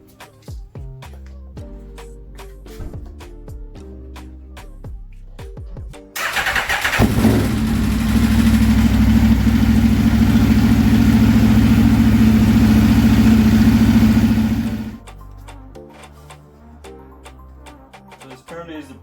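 An Aprilia RSV4 motorcycle under rebuild, burning oil, fires up with a loud roar and settles into a steady, close idle for several seconds before shutting off abruptly.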